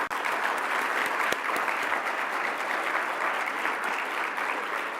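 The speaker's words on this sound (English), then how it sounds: "just a round of applause for the RDA Secretariat" Conference audience applause at the RDA 13th Plenary closing session, a continuous, fairly loud wash of many hands clapping with a few sharper individual claps.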